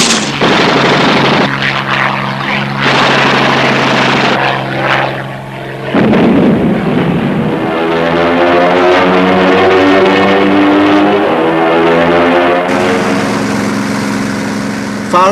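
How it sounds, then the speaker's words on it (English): A piston-engine propeller aircraft flies past with a loud, continuous droning roar; its tone shifts partway through, then settles into a steady, harmonic buzz. "only a few of the piston-engine aircraft had sufficient speed."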